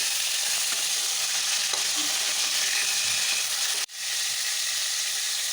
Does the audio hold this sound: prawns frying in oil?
yes